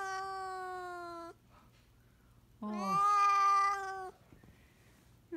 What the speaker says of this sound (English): You're a singing police cat.